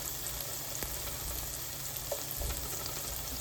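Onions and mushrooms fry in a pan with a steady, close sizzle and bubbling. A few faint utensil taps break the texture now and then.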